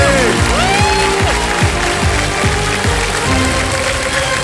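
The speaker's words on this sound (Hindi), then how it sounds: "तालियां बजती रहें इनके लिए" A KBC game show studio audience claps in steady, loud sustained applause as music plays underneath.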